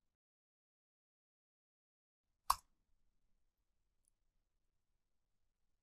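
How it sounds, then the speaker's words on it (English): A single sharp click of the Enter key on a computer keyboard during data entry in SAP software, one isolated tap in otherwise near-silent surroundings. "Now press the Enter key on the keyboard to validate the entered values."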